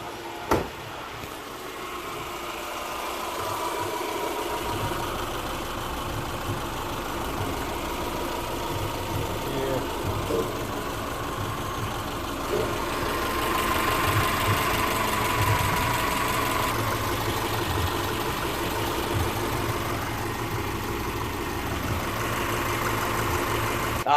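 Subaru Impreza engine idling with cleaning flush added, a steady close rumble with faint mechanical ticking that holds evenly for over twenty seconds, swelling slightly midway.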